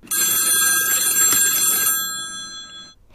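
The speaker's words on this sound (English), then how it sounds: "I think the phone is ringing" Telephone ringtone ringing loudly and close, a bright electronic bell-like trill repeating steadily for about two seconds before cutting off, then brief quiet.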